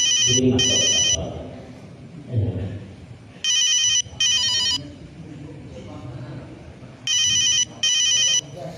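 A telephone ringtone sounds during a religious study gathering, ringing in three clear pairs of bright electronic trills spread across the span, with a voice talking low in between and beneath.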